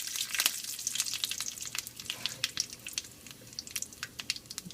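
Mustard seeds, curry leaves and dried red chilies crackle in hot olive oil as a tempering for chicken liver kulambu: quiet, close sizzling with a rapid scatter of sharp pops and spits, no voices.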